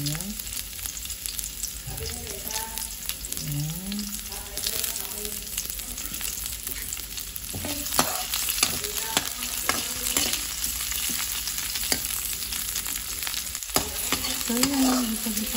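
Garlic and onion sautéing in a pan for chicken afritada make a dense, continuous sizzle with repeated scraping stirs and a few clicks. A voice murmurs briefly and faintly beneath the close, steady frying.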